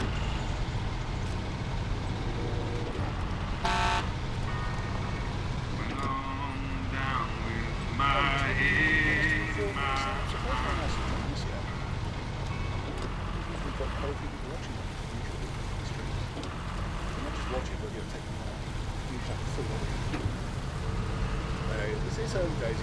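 A Kenworth 963 truck drives in the Snowrunner video game, a steady low engine rumble running throughout at moderate level, with people talking over it.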